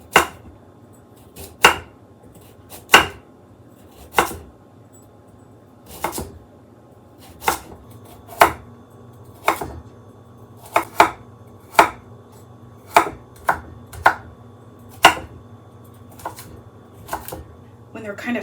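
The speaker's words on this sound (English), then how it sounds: "We're going to julienne them and then cut them crosswise." Knife chopping vegetables into julienne strips and cutting them crosswise for Korean steamed pork bun dumpling filling: sharp, evenly spaced thuds on a cutting board, close and distinct, with a faint low hum underneath.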